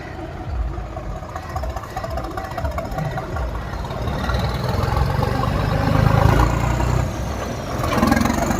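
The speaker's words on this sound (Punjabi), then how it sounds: "ਲਓ ਜੀ ਹੁਣ ਟਰੈਕਟਰ ਤੁਰਨੇ ਆ ਸਾਰੇ" Tractor engines start, rumble and build in loudness, a low throbbing drone of heavy vehicles nearby, growing stronger toward the end with no voices.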